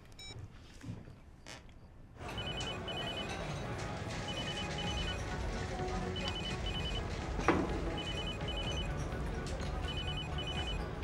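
A phone ringback tone repeats during an outgoing call in a drama scene, short paired electronic beeps recurring at regular intervals over a low room hum.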